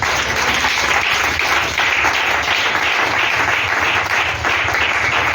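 A church congregation applauds and cheers in acclaim, a dense, steady roar of clapping that fills the space loudly and continuously from start to end.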